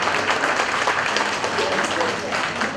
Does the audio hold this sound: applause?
yes